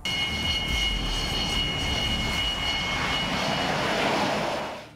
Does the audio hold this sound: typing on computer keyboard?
no